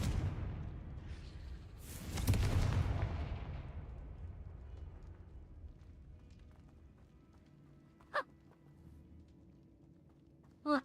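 Fiery Confringo spell blast in the video game Hogwarts Legacy, a loud burst near the start that rolls out into a long fading rumble, followed later by two brief sharp impacts, with no talk.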